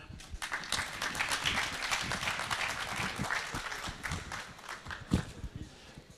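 At an energy-transition conference, the audience applauds as the first guest is welcomed, a scattered, moderately loud clapping with distinct individual claps throughout.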